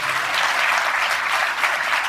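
Steady crowd clapping fills a church gathering during a Punjabi sermon at Pind Bodla, dense and even throughout with no voices over it.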